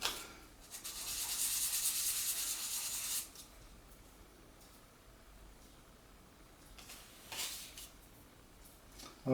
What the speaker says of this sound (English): putting the sandpaper to these nice, clean, clear acrylic discs was hard for me to do